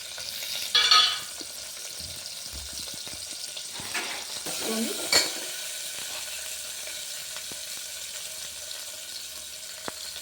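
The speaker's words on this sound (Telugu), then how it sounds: "ఆయిల్ కాగాక ఉల్లిగడ్డ, ఉల్లిపాయ వేస్తున్నాను." Onions going into hot oil in a pressure cooker, a steady close sizzle with a few louder stirring bursts and clinks early on, then settling into an even hiss.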